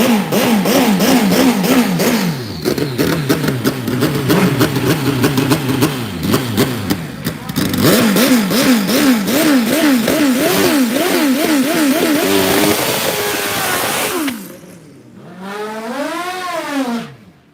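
Drag racing motorcycles, including an old school funny bike, rev hard and repeatedly during a qualifying session, in loud rising and falling bursts. Near the end the roar drops off into quieter, separate revs.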